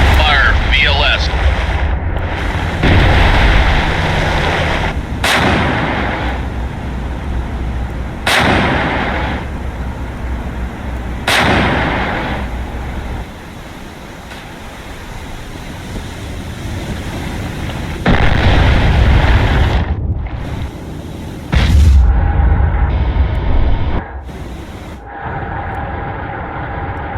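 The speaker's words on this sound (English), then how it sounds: "Fire VLS." VLS missiles launched from a ship in the naval game Cold Waters, heard as a loud, sustained roaring rush with repeated sharp launch cracks over a steady rumble, while voices call out commands.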